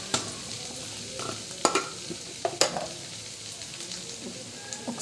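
Ivy gourd curry sizzles and fries in a pan while a spoon stirs and scrapes it, giving several sharp clinks and scrapes over a steady low sizzle, with no talk.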